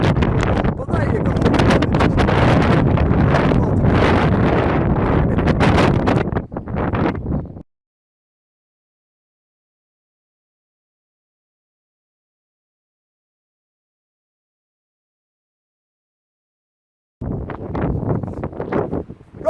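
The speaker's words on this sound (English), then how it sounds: "Alright guys, we've got nice wind in." Loud, roaring wind buffets the microphone outdoors at Windy Knoll in the Peak District, cuts to silence for several seconds, then gusting returns near the end.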